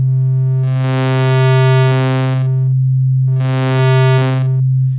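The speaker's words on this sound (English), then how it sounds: "I could play this note and start to shift the wavetable here from a sine wave up to a square" Two sustained notes from Ableton's Wavetable synthesizer, each morphing from a pure sine tone into a buzzy square wave and back, held over a constant low drone with a pause between them.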